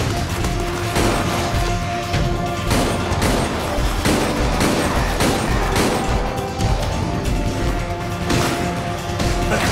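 Heavy, continuous gunfire and explosive crashes from Nemesis shooting in Resident Evil: Operation Raccoon City, loud and dense with repeated impacts and booms throughout.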